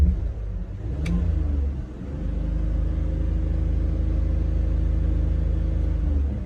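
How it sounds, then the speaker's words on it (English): A BMW E46 car engine held at wide open throttle, a steady, loud sustained roar with a brief dip near the start before settling into an even, continuous drone. "That was wide open throttle."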